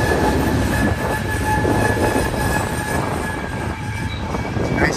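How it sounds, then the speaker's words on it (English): A manifest freight train rolls past on the BNSF line with a continuous loud rumble of wagons, rhythmic wheel clatter and a high steady wheel squeal throughout. "manifest freight train"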